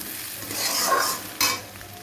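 Potatoes with spring onion fry and are stirred in a wok, the loud close sizzle swelling with two scraping stirring strokes, the second sharper and quickly fading.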